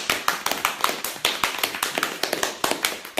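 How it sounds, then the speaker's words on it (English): Applause from an audience at the close of a show, a burst of sharp, overlapping claps in a steady, fairly loud patter lasting a few seconds with no talk. "I want to give a big round of applause to JC for being thoroughly bloody brilliant."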